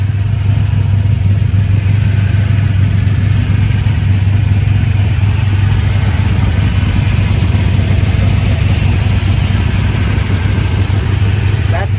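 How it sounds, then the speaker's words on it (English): A Chevrolet S10 pickup truck's engine with an aggressive solid-roller camshaft idles loudly and steadily at about 1,500 RPM at close range, a deep rumble with a constant rapid ticking clatter of the valves throughout. "I'm gonna end the video with the sound of the truck just idling"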